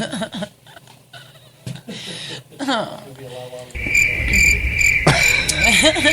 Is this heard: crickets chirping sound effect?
yes